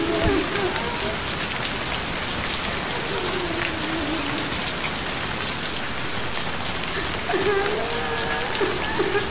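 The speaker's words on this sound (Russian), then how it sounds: "Наверное, они на дождь повылазили" Steady, dense rainfall pours down in the zombie shooter Left 4 Dead 2, a continuous hiss of drops hitting surfaces with faint game tones drifting over it.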